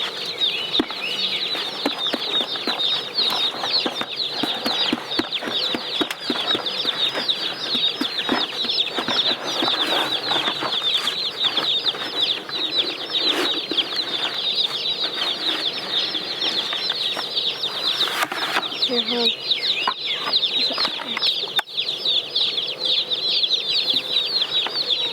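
Meat chickens on a homestead cluck steadily and flap their wings in a busy, continuous chorus, with frequent bursts of flapping over constant fowl chatter close by.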